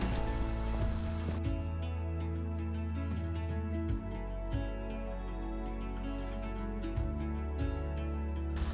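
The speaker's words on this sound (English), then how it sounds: "Now it's absolutely chucking it down with like sleety sort of snow." Heavy sleety snow pelts down during a Peak District hike, making a dense, steady patter close to the microphone, with sharper gusty bursts and no talking.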